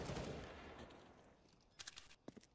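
Gunfire in a professional Counter-Strike: Global Offensive match, heard as a loud burst of shots at the start that fades, then a few short sharp cracks near the end.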